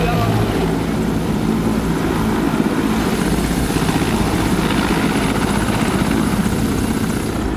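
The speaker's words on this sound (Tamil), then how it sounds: "நீட் வினாத்தாளை மதுரையிலிருந்து நெல்லைக்கு ஹெலிகாப்டர் மூலம் கொண்டு செல்வதற்கான ஒத்திகை நடைபெற்றது" Helicopter flying in a rehearsal for carrying NEET exam papers from Madurai to Tirunelveli, with a loud, steady rotor and engine drone that holds without a break throughout.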